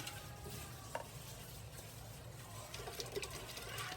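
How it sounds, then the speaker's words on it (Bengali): Coconut and jaggery, cooked together, being stirred slowly into milk in a pot, a steady soft swishing with faint sizzling and small clinks of the spoon throughout. "এখন দুধের সাথে আমি মিক্সড করে দিব।"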